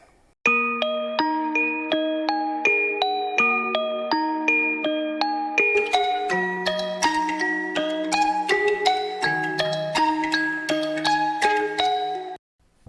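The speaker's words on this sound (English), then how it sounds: "I actually wrote this extra little bell that I thought was a little bit darker" A synthesized bell melody from Omnisphere rings out in a steady sequence of clear, sustained tones, with a darker, lower bell layer joining partway through.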